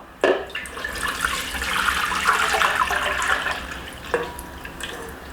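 Water runs steadily into a bowl for several seconds, close and splashy, starting with a brief knock and fading near the end.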